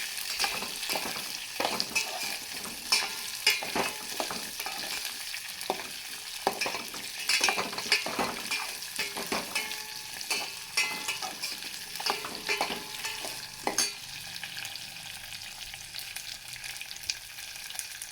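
Greens and onion stir-frying in a pan for a Kannada-style dhantina soppu massoppu, a steady sizzle broken by repeated scraping stirs, close and fairly loud, with no voices, the frying settling slightly quieter toward the end.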